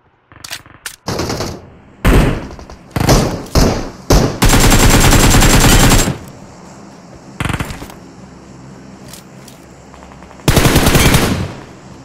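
Gunfire in a PUBG-style mobile shooter game, with loud, close bursts of rapid automatic fire and single shots separated by short pauses, heavy rattling volleys dominating throughout.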